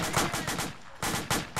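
Rapid automatic gunfire in the military video game Arma, loud bursts of shots in two strong bursts with a brief lull between.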